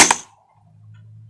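A single sharp, close shot from a Kingarms MK18 airsoft gas blowback rifle with a cold magazine, a crisp crack that fades quickly and is followed by a faint low hum.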